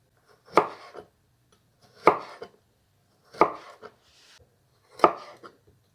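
A knife cuts radishes into thin rounds on a cutting board, giving four distinct, evenly spaced chops, each a sharp close thunk followed by a softer tap, with no talking.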